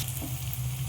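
A spice masala with tomato, chopped coriander, green chilli and mint sizzles in a pan for mutton pulao as it is stirred. A brief, steady, close frying crackle plays with no talk.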